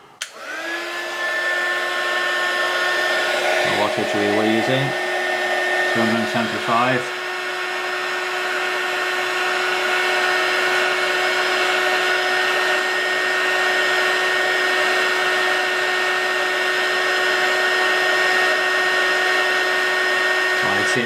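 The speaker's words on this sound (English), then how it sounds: "This is a heat gun, which is commonly used for shrink wrapping, heating components" A heat gun used for shrink wrapping, powered from a BLUETTI AC2A solar generator, blows in a loud steady whine that runs the whole time while a person talks briefly over it early on.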